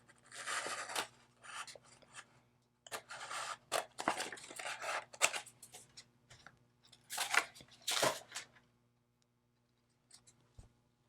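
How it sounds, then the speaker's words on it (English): Scissors snip close and clear, trimming an infusible ink transfer sheet in short bursts of cutting and papery scraping separated by brief pauses, quiet and alone. "I'm going to trim it down really close."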